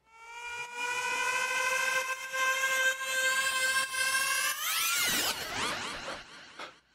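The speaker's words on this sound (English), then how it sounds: "This riser here is made from that same rising vocal." A layered tonal riser made from a rising vocal, with stacked harmonics sweeping steadily upward, swelling loud, then breaking into swirling, warbling sweeps before fading out.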